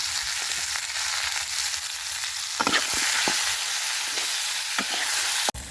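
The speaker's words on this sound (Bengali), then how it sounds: "সবগুলো খুব ভালোভাবে ভাজা হয়ে গেছে এখন তুলে নিবি" Sliced potatoes frying in oil in a pan for a Bengali bhorta: a steady, dense sizzle holds throughout, with a few sharper scraping stirs near the end.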